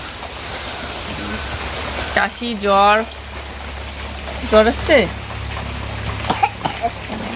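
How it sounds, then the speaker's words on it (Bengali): Heavy rain pours steadily as a constant broadband hiss in the background, with a person talking and a child coughing over it. "ঠান্ডা পড়ার আগে দুদিন বৃষ্টি হচ্ছে শেষ এখন বৃষ্টি"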